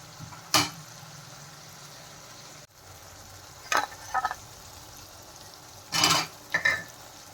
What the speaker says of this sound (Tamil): கூடவே கொஞ்சம் கல் உப்பு போட்டு சேர்த்துக்கலாம் அப்புறம் சீக்கிரமாக வதங்கும் இதை நல்லா வதங்கட்டுங்க